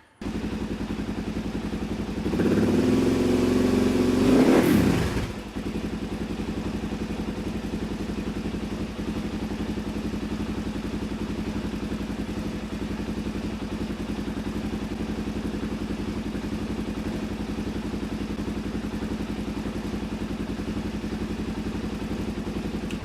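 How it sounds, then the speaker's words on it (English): A 2001 Suzuki DRZ400S motorcycle cranks and catches with a loud rising burst lasting a few seconds, then settles into a steady, fairly close idle that runs on evenly. "So now we're going to start the bike and see what kind of voltage we're getting at the battery."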